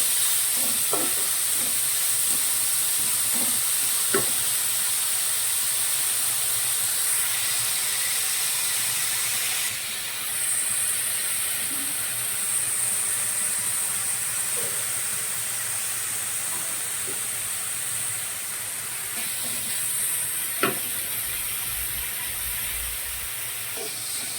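Sliced onions with salt sizzle and hiss in a pan under an even, steady frying sound, with occasional scraping and clacks from a spoon stirring them; no one speaks.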